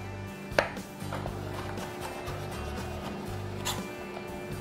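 A knife slices vegetables into strips for ratatouille bruschetta, with a run of soft, close cuts and taps on a cutting board, one sharper knock near the start, over a low steady hum.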